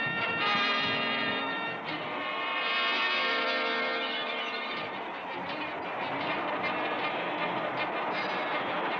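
Continuous rattling and rumbling of a train carriage rolling over rails, steady and close, with a dense metallic clatter and no voices.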